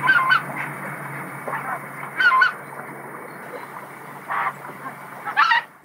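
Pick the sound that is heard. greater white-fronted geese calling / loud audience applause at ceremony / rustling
greater white-fronted geese calling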